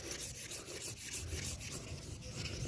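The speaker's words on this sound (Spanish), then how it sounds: "Entonces lijamos para ir matando la raya de la lija de la 240." A wheel rim is sanded by hand with 600-grit sandpaper, giving close, steady back-and-forth rubbing strokes in a continuous gritty rasp at an even rhythm.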